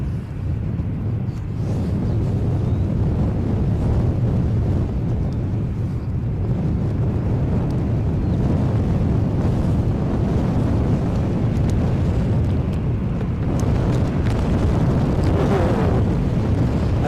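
Gusty wind buffets the microphone at Edinburgh airport, a steady low rumbling roar with surging gusts across the whole stretch, no voices.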